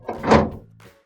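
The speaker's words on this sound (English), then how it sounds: "And now I can put the drawers back in." A single dull thunk as a drawer is pushed back into a Maytag fridge, close and fairly loud, with a faint knock just after.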